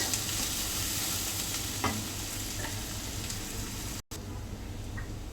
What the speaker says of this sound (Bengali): পেঁয়াজটা যে ভালো করে ভেজে নিব